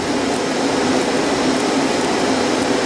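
Small hole EDM drilling through 1/4 inch tool steel gives a steady, loud electrical hiss and buzz, an unbroken broadband drone with no pauses or voices.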